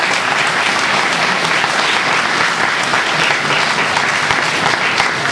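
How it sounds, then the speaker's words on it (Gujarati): Dense, loud applause from an audience at a university annual function, continuous clapping filling the hall throughout without a break. "તો તેના માટે તાળીઓ થઈ જાય."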